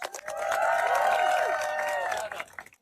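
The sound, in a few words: volunteers applauding themselves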